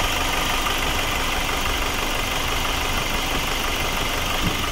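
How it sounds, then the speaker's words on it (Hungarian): Nissan X-Trail 2.2 dCi 4x4 diesel engine idles evenly, a constant close, loud clattering hum with no change in pitch or pace. "Ez lenne tehát a motorhang"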